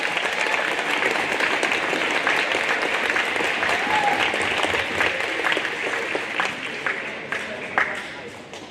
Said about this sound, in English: Can we have a round of applause for these students, please?